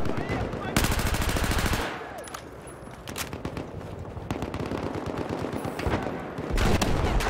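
Rapid automatic gunfire and heavy cannon shots from a tank in the video game Battlefield 4 on Firestorm, loud and continuous bursts with brief lulls, dense battlefield noise throughout.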